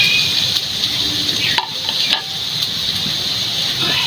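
Gondhoraj fried rice, with gondhoraj lime juice, chopped coriander and ghee, is stirred in a hot pan, giving a loud steady sizzle broken by occasional scrapes and clinks of the spatula.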